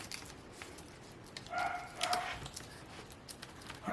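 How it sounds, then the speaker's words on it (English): A small dog whines and whimpers for its owner in short, thin rising cries, a few louder bursts in the middle, fairly faint over a steady background hiss. "That poor little dog wants its mama."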